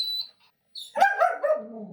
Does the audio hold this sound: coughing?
no